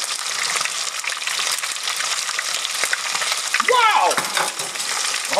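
An inside-out BLT deep-fries in grease at 375 degrees with a loud, steady, close sizzle and bubbling, briefly interrupted by a short swell of gushing and crackling near the end.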